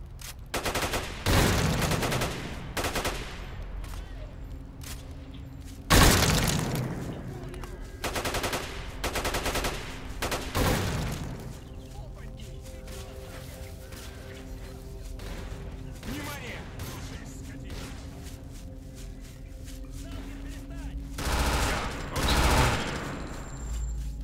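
Repeated bursts of automatic gunfire in the video game S.T.A.L.K.E.R: Call of Misery, some loud and close, others more distant, with sharp volleys and scattered shots spread across the stretch over a busy background.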